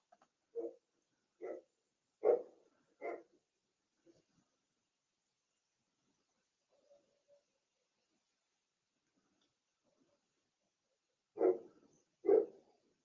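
A dog barks in short single woofs, four in a quick uneven series, then a long quiet stretch before two more barks close by.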